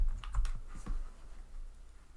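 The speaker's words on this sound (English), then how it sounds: "Just type in the number 15 and click OK." Several quick computer keyboard keystrokes followed by a click, close and crisp in a quiet room, with a short burst of taps at the start and a softer click near the end.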